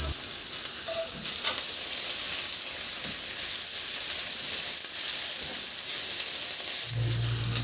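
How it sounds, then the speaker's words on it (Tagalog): Garlic and onion sauté in hot oil in a pan, a loud continuous sizzle and crackle with occasional stirring scrapes, heard alone without speech, while pork spare ribs are being cooked. "Sa kawali naman, magpainit na ako ng mantika at igisa ko na yung bawang. Igisa ko na rin yung sibuyas."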